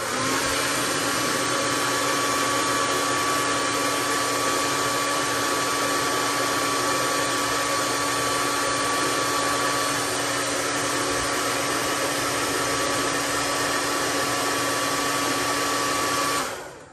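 A heat gun blows hot air onto the rubber part of a kitchen soap dispenser, a constant loud whirring hiss with a steady whine that runs nearly unchanged until it cuts off at the end.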